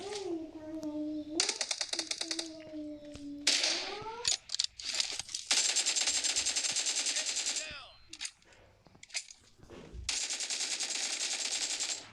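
Rapid automatic gunfire bursts from the video game PUBG, repeated in loud sustained volleys broken by short pauses, with electronic game tones and a brief voice in between.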